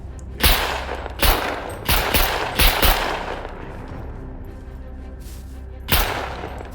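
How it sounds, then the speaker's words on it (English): Bursts of gunfire in a video game raid, several sharp loud shots in quick succession early on, a pause filled with lingering background noise, then one more shot near the end. "Is he shooting at you or are you shooting at him?"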